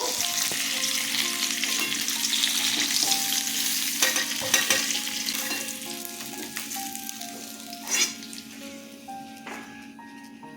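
Fish sizzles and crackles in hot oil, a steady frying hiss with occasional pops and clinks of a utensil.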